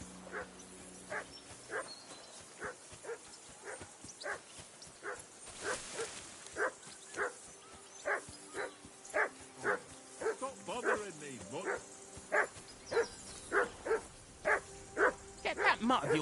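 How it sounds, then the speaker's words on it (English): Dog in the medieval game Kingdom Come Deliverance 2 barking steadily, a long run of evenly spaced woofs at mid distance, with muffled voices talking underneath. "Call off that damn dog before he wolfs down the last of our mates."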